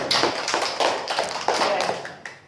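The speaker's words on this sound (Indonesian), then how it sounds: "Tepuk tangan rekan isi." Classmates applaud in a room: a few seconds of hand clapping with uneven bursts that swell and fade, close and fairly loud, with no talking.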